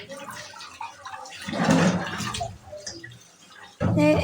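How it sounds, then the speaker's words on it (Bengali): Kneaded flour dough is squeezed and rinsed by hand in water, producing wet sloshing and dripping that swells in the middle, dips, then returns loudly at the end. "এখন 10-15 বার করে জল দিয়ে ভালো করে কষলে কষলে ধুয়ে ফেলে দেব।"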